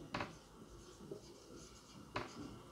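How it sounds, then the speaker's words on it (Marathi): Pen strokes writing an English sentence by hand on paper, a few brief scratchy bursts with pauses between them, close and quiet with no talking. "तर मी आता इथे पुढचं वाक्य लिहिते,"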